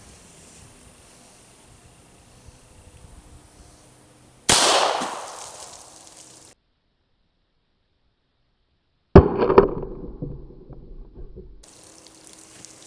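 9mm pistol firing CCI 115 grain full metal jacket rounds outdoors: two sharp, loud reports several seconds apart, each followed by a short decaying echo, with quiet background between them.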